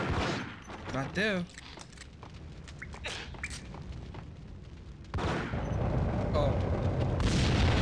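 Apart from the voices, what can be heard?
gunfire from the video game Max Payne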